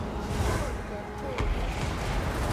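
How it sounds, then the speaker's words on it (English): Artillery bombardment in the video game Total War: Warhammer, with shells dropped from across a battlefield, giving a dense, continuous wash of distant booms and gunfire crackle. Voices murmur beneath it. "Dropping bombardments in from halfway across the battlefield."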